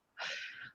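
A single short, quiet sneeze from someone nearby, a brief breathy burst standing alone.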